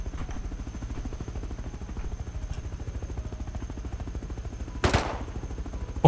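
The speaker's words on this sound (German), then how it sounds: "Aber der Heli hinter uns, den schießen wir ab." In the video game Rust, rapid automatic gunfire is aimed at a helicopter, a fast even stream of shots lasting several seconds, with one louder burst near the end and no talk over it.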